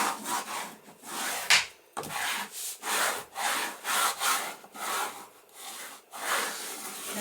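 Paper rubbed down firmly onto a handmade book with a burnishing tool, producing loud, close, rhythmic back-and-forth scraping strokes that repeat steadily throughout with only brief breaks.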